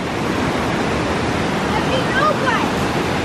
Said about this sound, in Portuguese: Olha a queda d'água, que lindo.